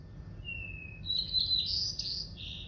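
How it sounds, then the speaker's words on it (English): Recorded sparrow song plays back, with a thin, steady whistled note and then a quick run of bright, complex chirps and trills over low background hum. "Sparrow songs are so complicated."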